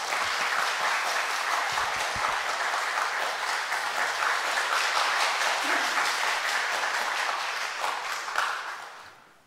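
A church audience claps warmly to welcome a writer and guide, with steady sustained applause filling the room for several seconds before it fades out at the end.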